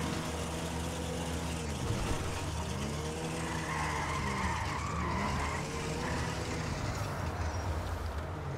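A car in GTA 5 Online rolls along on popped, flat tyres, giving a continuous grinding, scraping roar with wavering tonal whines as it keeps moving, loud and close with no talk.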